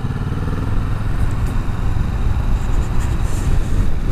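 Kawasaki Vulcan S cruiser motorcycle engine droning steadily at close range while cruising and overtaking cars on the road, with constant wind rush over the low rumble.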